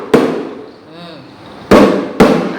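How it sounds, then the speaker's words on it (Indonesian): A rebana, the traditional Malay frame drum, is struck by hand. Three loud, sharp slaps ring out close by, one near the start and two more about half a second apart near the end. "Ini adalah rebana, alat musik khas Melayu. Nah, rebana ini kalau kita pukul"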